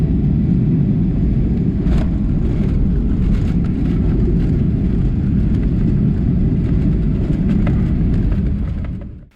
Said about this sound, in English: And now we're landing in Split.